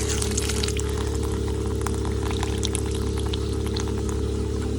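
Hot water from a cabin's pumped water system pouring steadily from a tank, a continuous close rushing flow under a constant low pump hum.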